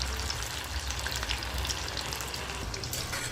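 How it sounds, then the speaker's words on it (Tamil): Chicken 65 deep frying in hot oil gives a steady, dense sizzle and crackle, close and continuous throughout, with no voices. "ஃப்ளேமில் வச்சு பொரிக்கிறப்ப தான் வந்து நல்லா உள்ளே வெந்து வரும்."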